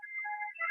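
A telephone rings once on a radio call-in show, a short, quiet electronic tone with no talk over it.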